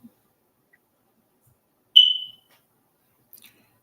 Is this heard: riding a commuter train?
no